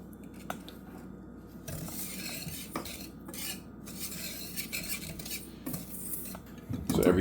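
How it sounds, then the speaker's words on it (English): Sugar gently stirred in a pan while making caramel, giving soft scraping and light clinks of a utensil against metal, repeated at an unhurried pace and close by. "Every 20 seconds, I'm gonna gently stir it until the sugar starts to form clumps."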